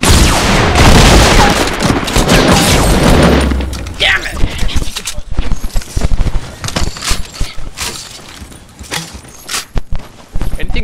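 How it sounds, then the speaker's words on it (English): Gunfire rips through a Fortnite match as a sniper shot lands, opening with a loud, dense burst of shots and booms, then continuing as scattered sharp cracks, thuds and footsteps with voices talking over them. "He's just standing still, let me snipe him."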